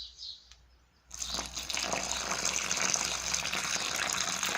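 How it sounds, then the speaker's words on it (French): Water poured from a watering can into a hole dug for planting a tomato, a steady gushing splash that starts after a second of near quiet and runs on evenly and close. "dans ce trou, je prends mon arrosoir d'eau"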